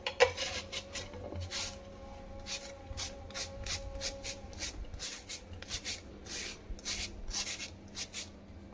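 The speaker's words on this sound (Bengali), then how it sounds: "এবার এই 2টো আলুকে আমি গ্রেটারের সাহায্যে গ্রেট করে" Raw peeled potatoes are grated by hand, giving a rapid run of rasping strokes against a grater, close and fairly quiet, in a regular back-and-forth rhythm.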